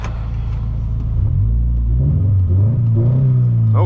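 A 2016 Scion FR-S with a six-speed manual revs loudly from inside the cabin, its engine note rising and falling in a sustained, rumbling climb with no talk over it.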